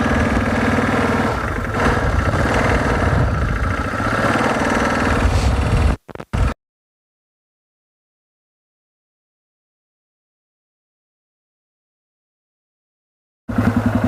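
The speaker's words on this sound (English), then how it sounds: "First little drive on the four-wheeler." A four-wheeler ATV engine runs steadily at close range during a short drive, with a dog riding along. The engine drones loudly for about six seconds, then the sound drops out and returns near the end.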